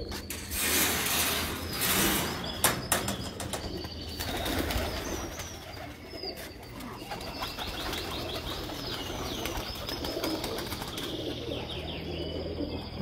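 Pigeons on a Sharjah rooftop: bursts of wing flapping and clattering take-offs early on, then scattered chirps and soft mechanical rattles as the birds settle, fairly close.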